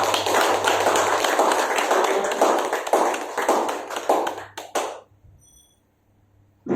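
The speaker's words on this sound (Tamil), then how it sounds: "நல்லா சத்தமா கை தட்டினா இருதய கோளாறு வராது சொல்லுவாங்க." Loud applause from a business network audience at a leadership training event, dense clapping that sustains for several seconds, then breaks into a few final claps before fading to near silence.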